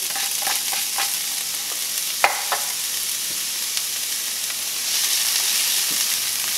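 One diced onion sizzles in avocado oil in a pan, a continuous close frying hiss broken by a few scraping stirs and light clinks, with no voices.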